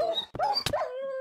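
Game dogs in a dungeon simulator give a quick yip, a short bark and a rising whimper in a brief, close, clear burst.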